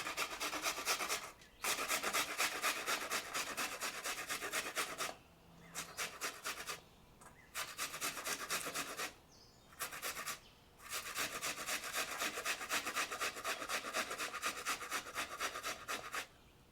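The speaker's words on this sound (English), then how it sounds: "Grate the onion and add it to the ground beef." An onion is grated by hand in quick, even rasping strokes, a continuous dry scraping broken by several short pauses, close and fairly quiet.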